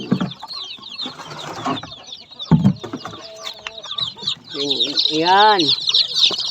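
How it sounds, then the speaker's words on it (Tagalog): Chickens cluck close by on a farm, joined by rising bursts of high, rapid peeping from chicks and scattered fowl calls. "Ito yung mga sisiw."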